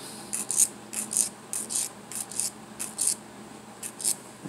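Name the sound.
filing down the end of a wire coil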